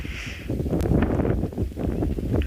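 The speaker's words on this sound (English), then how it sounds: "I'm sure you can hear the wind" Wind gusts roar steadily across the microphone out in the open South African bush on a morning safari drive, a continuous low buffeting with no voices.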